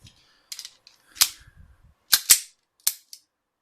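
A handful of sharp metallic clacks and snaps from a F.E.G. .32 ACP police pistol as a double feed is cleared and the magazine dropped, spaced irregularly in close quiet surroundings.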